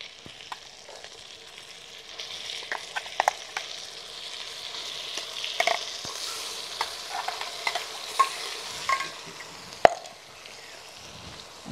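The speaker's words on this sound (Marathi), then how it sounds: "आणि आता हा मसाला मस्त तेल सुटेपर्यंत परतून घेऊया" A masala paste of cashew, almond, tomato and onion fries in oil, giving a quiet, continuous sizzle broken by scattered pops and the occasional scrape of stirring.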